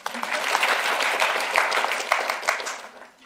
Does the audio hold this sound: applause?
yes